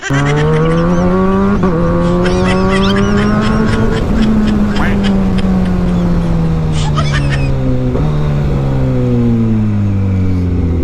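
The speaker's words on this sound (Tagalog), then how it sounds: "Malakas lang talaga kasi yung motor ko, ma'am." A loud big-bike motorcycle engine revs continuously, its pitch rising and falling through gear changes as it speeds along close by, carrying a passenger.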